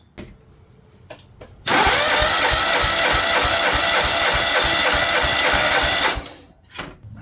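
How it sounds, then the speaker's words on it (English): An engine cranks over at full throttle with no spark for a cylinder compression test, giving a loud, steady rhythmic starter churn of roughly eight to ten pulses a second that runs about four seconds and then stops abruptly. "we're going to crank this thing over about 8 to 10 cranks"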